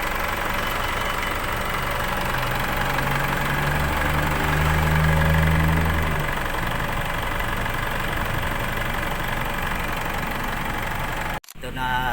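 An Isuzu MU-X 3.0 diesel engine idles close by, a low continuous rumble with a brief harmonic rise midway, then an abrupt cutoff near the end.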